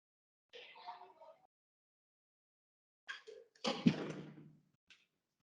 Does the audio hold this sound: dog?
no